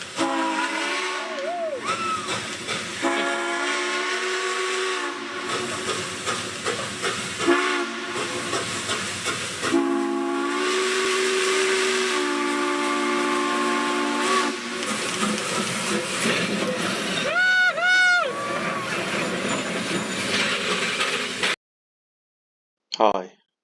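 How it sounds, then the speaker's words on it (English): A train pulls away from a standstill, its steam whistle sounding in loud, repeated rising blasts over continuous rumbling and hissing, ending in a short pause and one last brief burst. "a train getting started and getting off to a running start is a nice thing to watch"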